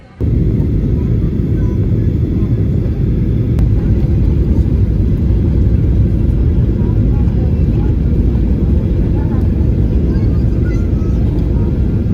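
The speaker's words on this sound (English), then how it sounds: "Plane's already here." Small airplane sitting at the airstrip in Placencia, Belize with its engine running, a steady loud low rumble throughout, with a voice talking over it.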